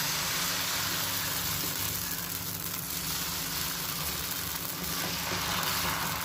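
Dosa batter cooking on a hot griddle gives off a loud, continuous sizzle and hiss, close and steady throughout with no voices.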